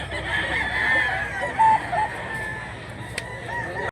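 A rooster crows once, loud and fairly close, over a steady murmur of background noise at a chicken market in Mantalongon, Cebu.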